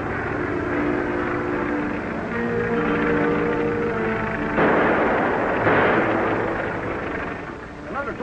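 Gunfire in a 1938 film serial as men take pot shots, a few sharp reports heard over a dense, noisy old soundtrack with engine-like rumble and voices.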